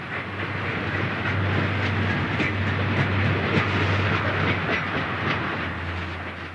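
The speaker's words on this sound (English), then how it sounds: "A westbound freight back at the East Tunnel portal is struggling" A westbound freight train struggles up a 1.5% grade near the East Tunnel portal, a loud sustained rumble with a low engine drone, rhythmic clickety-clack and hissing.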